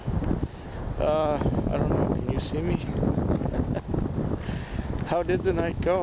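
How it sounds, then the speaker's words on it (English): Gusty wind buffets the microphone in heavy low rumbles throughout, with someone talking over it. "It's windy as a son of a bitch, so if you can't hear me, I understand."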